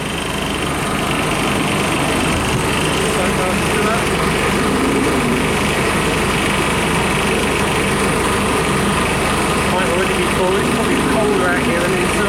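An air conditioner fan motor running after a start capacitor has been fitted: a loud, constant motor whir and buzz with a dense, unbroken drone, and voices talking underneath.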